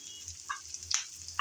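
Onion and garlic frying in a pan until light brown, with a faint low sizzle broken by a few short spatula scrapes and clicks, quiet and close, with nobody speaking.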